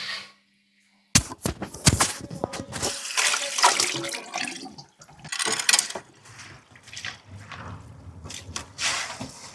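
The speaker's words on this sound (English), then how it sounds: "After boiling, we put the mugwort into cold water to cool it down." Boiled mugwort dropped into a bowl of cold water, a brief silence and then splashing and sloshing in uneven bursts, close and fairly loud, with water swirling between the splashes.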